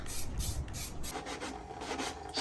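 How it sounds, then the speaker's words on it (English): Sandpaper rubbing thin enamel paint on the high points of a Redcat COE model RC truck, short repeated strokes, close and fairly quiet, with no talking. "So you're sanding at the high points?"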